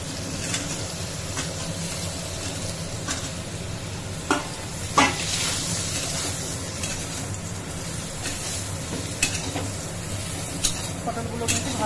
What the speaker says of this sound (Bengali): এবার এই তেলের মধ্যে আমি পটলগুলো দিয়ে দেবো।